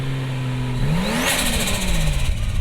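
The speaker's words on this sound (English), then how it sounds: "we gotta hear the turbo flutter" A 2JZ-swapped Toyota Altezza making about 500 horsepower revs up close and loud, the pitch sweeping upward and then falling back as the throttle releases, with turbo flutter on the let-off.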